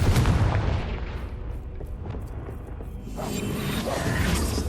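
A Confringo blasting spell fired in Hogwarts Legacy lands as a deep booming burst, followed by a rumbling, whooshing magical roar that fades slightly and then swells again, loud and close, with no talk.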